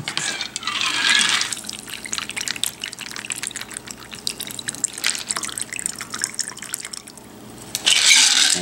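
A vodka cranberry cocktail pours and trickles over ice in a glass, with splashing and dripping between louder bursts of pouring at the start and end.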